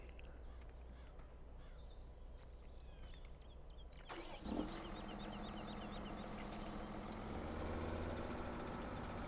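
A tractor engine in Farming Simulator 17 cranks and fires up with a sudden loud catch, then settles into a steady low idle after quiet ambience with faint bird chirps.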